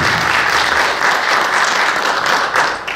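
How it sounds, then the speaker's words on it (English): Concert audience applause at a jazz trio performance, a dense, loud, steady wash of many hands clapping close by for three seconds, with no talking over it. "please give a round of applause."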